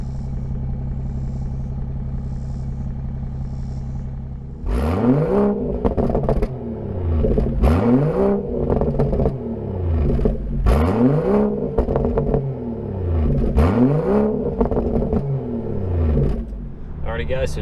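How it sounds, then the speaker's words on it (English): Outside a BMW F30 340i fitted with an AWE Touring catback exhaust, a steady idle hums before the engine is blipped in a series of four or five loud, close rev sweeps with crackly falls between them. "I'm gonna go ahead and take the time to provide you guys some exhaust clips from the outside of the car."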